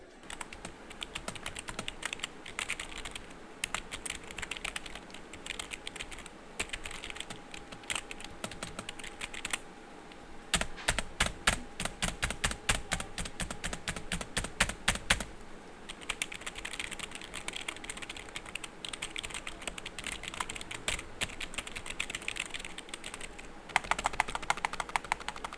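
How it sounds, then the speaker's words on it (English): Keystrokes clatter on a Fantech K613 gaming keyboard, steady typing with a quick burst of rapid, evenly spaced presses midway, close and crisp with no talk. "So here's a sound test of the keyboard."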